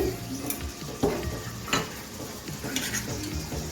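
Chopped tomato and green chilli frying in a pan with spices over low-medium gas, a steady close sizzle broken by a few scraping stirs and light utensil clinks, with no talking.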